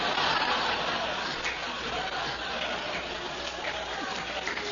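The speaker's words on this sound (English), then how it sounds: "They're applauding the chutzpah, his kid." Audience applauding at a talk: a steady wash of clapping mixed with crowd murmur and a few chuckles, moderately loud throughout.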